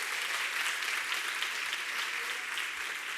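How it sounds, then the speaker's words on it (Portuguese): A church congregation applauds during a sermon, giving a steady, full wash of many hands clapping together, moderately loud and continuous, with no talking over it. "Dê mais um aplauso."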